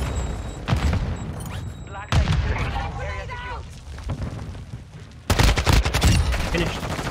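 Video game gunfire from a LAB sniper rifle and an AK-74U plays loudly and close, with bursts of rapid automatic fire and booming shots in clustered volleys, and a voice talks over parts of it.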